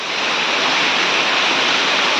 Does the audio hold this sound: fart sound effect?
no